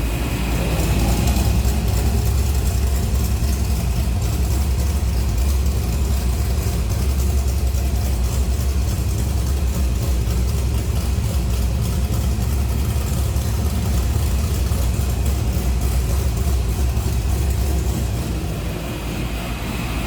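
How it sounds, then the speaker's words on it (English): A 2011 Chevrolet Camaro converted to a Z-TA Trans Am idles with its exhaust cutouts open, giving a steady, loud, close rumble with a faint mechanical ticking running unbroken throughout. "Let me go and open these cutouts for you."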